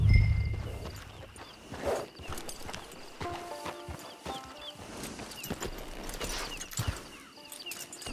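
Horse hooves clip-clop at a walking pace in Red Dead Online as riders approach a camp, a steady series of close hoof strikes with a brief snort early on.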